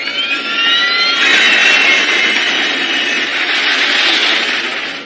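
Engines of a Trident jet airliner roar loud and close at takeoff thrust, a high whining tone swelling into a broad, sustained rumble before it slowly eases.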